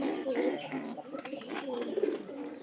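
A pair of pigeons coos softly and continuously at close range, with faint chirps and rustling and no talk.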